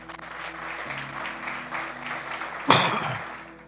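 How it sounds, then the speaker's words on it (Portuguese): A church congregation claps for Jesus during a service, light, scattered applause that stays fairly quiet, with one sharper clap near the end before it fades. "Dá um aplauso para Jesus aí."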